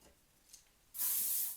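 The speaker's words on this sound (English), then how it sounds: "just spray it" Hairspray from an aerosol can is sprayed onto curled hair in an Old Hollywood style, one sudden close, loud hiss that starts after a quiet moment and holds steadily to the end.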